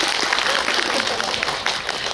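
An audience at a film screening talk with an actress applauds, a dense, steady patter of clapping from many hands filling the room.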